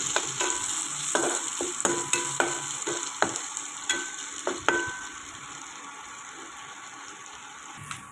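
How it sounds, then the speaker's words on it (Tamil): Onions, garlic and fenugreek sauté in oil for a brinjal curry, a steady sizzle broken by a run of sharp utensil clicks and scrapes as the pan is stirred through the first five seconds, then a continuous fry alone. "இப்போ இந்த வெங்காயம் வதங்க வரைக்கும் நம்ம வெயிட் பண்ணலாம்."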